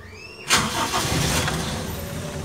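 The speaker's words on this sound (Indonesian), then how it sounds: "Sekarang kita coba menyalakan mesin mobil ini" A Toyota Kijang Super Grand car engine starts after repairs for rough running and vibration. A short starter crank fires into a steady idle almost at once, close and fairly loud, with no voices.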